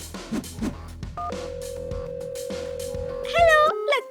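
Telephone being dialed: a few quick button tones, then one long steady electronic tone and a brief warbling burst at the end, with faint background sounds.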